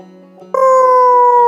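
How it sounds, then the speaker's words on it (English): A long, steady wolf howl rises abruptly after a quiet lead-in and holds a sustained wavering tone to the end, loud and close, set in a fantasy tabletop adventure. "You hear a howling."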